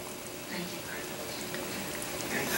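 Noodles and rice cakes in broth coming to a boil on medium-high heat, a soft, steady bubbling and simmering hiss with no clear talk.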